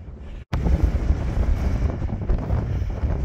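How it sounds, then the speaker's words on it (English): Strong wind roars across the exposed summit of Rough Tor, a loud, steady rumble buffeting the microphone after a brief cut near the start, with no voices. "It's very windy."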